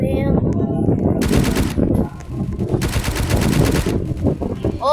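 Rapid bursts of automatic gunfire in a police station versus bad guys video game, two long sharp volleys rattling over a dense, busy game background, with a brief quieter gap between them.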